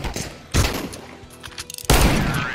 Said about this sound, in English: let's try to shoot them